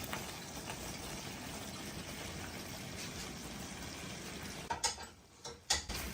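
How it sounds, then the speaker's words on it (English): Pasta being stirred into a creamy shrimp sauce at a slow simmer, a steady soft wet sloshing and bubbling hiss close by, ending with a couple of brief spoon scrapes and taps against the pan. "Give it a good stir."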